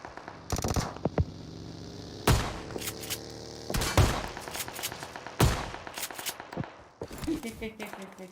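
Gunfire in the PUBG Mobile video game, several sharp loud shots and short bursts scattered across the clip, with softer in-game clatter between them.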